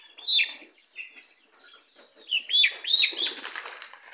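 A chicken squawks and clucks in agitated bursts while flapping its wings during fowl pox vaccination, heard close and fairly loud with no voices.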